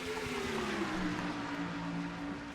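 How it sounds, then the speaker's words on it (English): Field of stock cars at Charlotte Motor Speedway, 700-plus horsepower engines at full throttle on the backstretch, a steady loud droning roar with sustained harmonic whine, no voices. "The roar of those engines. Here's 700 plus horsepower. And all of them at the full song now."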